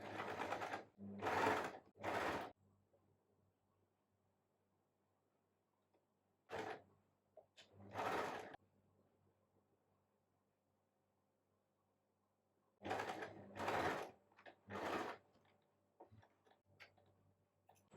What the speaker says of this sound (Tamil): இப்போ நம்ம வந்து இந்த கோல்டன் டியூபை வந்து தைச்சிக்கலாம்.